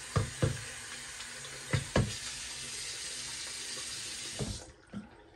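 Hot water runs steadily from a tap into a kitchen sink during dishwashing, a close continuous hiss with a few clinks and knocks, then the flow shuts off near the end.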